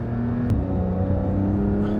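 A Porsche 911 Dakar's engine pulls hard off-road, a close, steady drone that builds in pitch, with a brief sharp click partway through.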